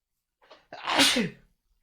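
A single loud sneeze, close by, with a brief sharp intake of breath just before it, during Minecraft gameplay.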